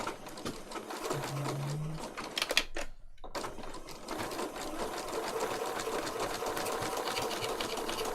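Sewing machine running a straight stitch through fabric for tags, a steady dense mechanical whir with rapid needle rhythm, close and continuous apart from a brief stop near the middle.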